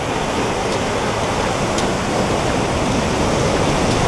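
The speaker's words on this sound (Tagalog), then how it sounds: "medyo malakas yung alon ngayon pero okay lang" Steady, loud roar of strong sea surf after a typhoon crashing continuously close by at a fishing spot, a dense wash of water noise with no voices.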